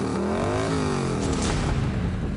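A vehicle's loud exhaust revs on a busy road, its engine note climbing and falling in a harsh, blaring surge close by, over steady traffic noise.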